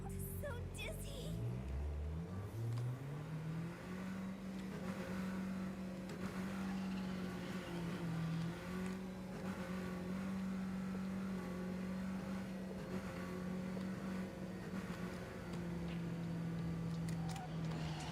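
A video game car engine revs up over the first few seconds, then holds a steady loud drone that wavers slightly as the car sits stuck, running throughout.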